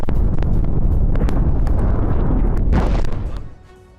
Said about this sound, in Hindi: आईडीएफ के बेस के पास कई धमाके किए।